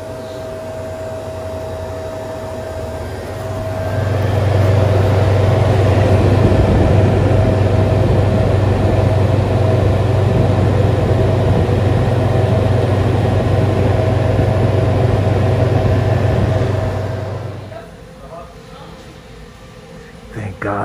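Walk-in cooler refrigeration unit with a compressor and two condenser fan motors running, a loud steady mechanical hum and whir that starts a few seconds in and stops abruptly near the end, with someone talking over it.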